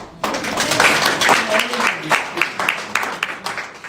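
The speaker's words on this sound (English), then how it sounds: "I thought you would clap." A live audience at a book review event in South Africa breaks into applause, a steady patter of many hands clapping, with a voice talking over it throughout.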